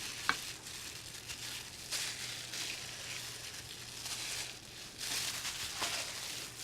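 Diced jalapeno pepper sizzles with onion in a hot pan, a quiet steady crackle that swells as the pieces are stirred, with soft scraping and a small clack near the start.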